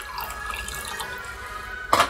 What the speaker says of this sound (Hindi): 1 कप पानी ले लेंगे।